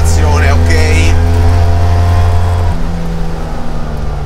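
A tuned vintage Fiat 500 with a 700cc engine pulls uphill in third gear at light throttle, its steady low engine drone loud and close throughout, shifting to a slightly lower pitch partway.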